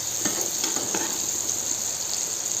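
Amla seasoned with salt and chili powder cooks in a pan, giving a steady close sizzle with a few soft pops and no talk.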